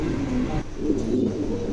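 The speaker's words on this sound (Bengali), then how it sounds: "চমৎকার এক জোড়া কবুতর" A pair of check pigeons gives a low, rolling coo in repeated throaty pulses, close and fairly loud, with no voices.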